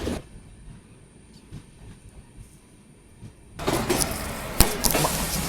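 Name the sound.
Matsyagandha Express train arriving at station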